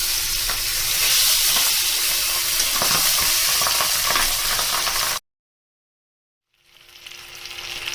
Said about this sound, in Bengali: তেল গরম হয়ে গেছে। মাছগুলো আমি একে একে ছেড়ে দিচ্ছি।